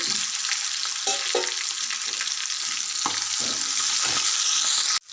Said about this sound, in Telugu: రెండు స్పూన్ల ఆయిల్ పోసి కొద్దిగా ఆవాలు కదా చక్కగా దంచి పెట్టుకున్న ఉల్లిపాయలు ఒక ఇరవై ఎనిమిది నాలుగు ఎండుమిరపకాయలు